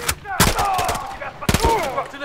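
Gunfire in the video game Call of Duty: Modern Warfare 3, in a snowy forest setting: two sharp, loud bursts of shots, with game voices and sound effects in between.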